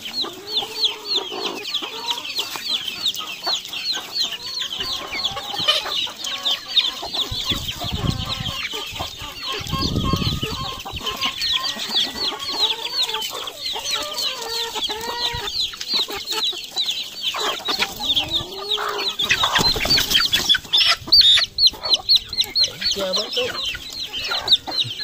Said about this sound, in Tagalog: At hulihin lang natin yung mga manok.